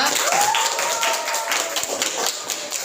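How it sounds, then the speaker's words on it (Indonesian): Classroom applause for a student group after their presentation, a continuous patter of clapping from a room of pupils, moderately loud and fairly even throughout, with faint voices mixed in. "silakan beri tepuk tangan untuk kelompok 2"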